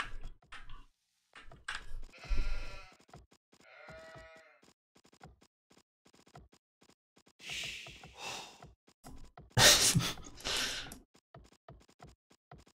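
Sheep bleat repeatedly in an Age of Empires match, several bursts of varying loudness spread across the stretch, with scratchy game clicks in between and no talk.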